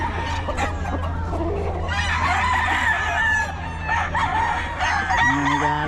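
Roosters crow loudly and repeatedly, with clucking fowl around them and no talk, in a busy farmyard.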